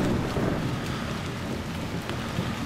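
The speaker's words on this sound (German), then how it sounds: "weil es regnet" Steady rain pours in the horror video game Haunt, a dense continuous hiss with low rumbling undertones like distant thunder, heard alone without any voices.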